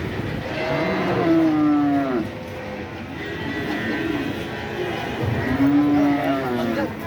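Loud, drawn-out cow moos rise over a busy livestock market din in Shahzadpur, Sirajganj, with several animals calling in turn and a crowd murmuring beneath.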